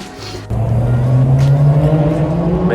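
A car engine revs at a night car meet at the Daikoku parking area in Tokyo, the steady loud drone rising and swelling after a sudden start, with faint crowd murmur behind.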